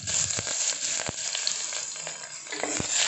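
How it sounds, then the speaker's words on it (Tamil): Chopped onion and curry leaves fry in hot oil in a pan for a rice and lentil dish, giving a loud, steady sizzle close by, broken by a few sharp clacks of stirring. "சேர்த்து நல்லா வதக்கி விட்டுடலாம்."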